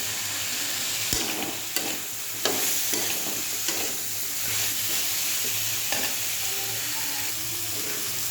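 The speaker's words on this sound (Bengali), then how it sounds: "আর আমি এই যে 4টে কাঁচা লঙ্কা রেখেছিলাম ফেলে, সেটা দিয়ে দিলাম।" Green chillies fry in a hot pan with oil and spices, sizzling steadily while a spoon stirs them, scraping and knocking against the metal at irregular moments, close and clear with no talk.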